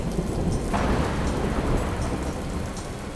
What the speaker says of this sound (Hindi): बहुत तेज बारिश हो रही थी और बिजली कड़क रही थी।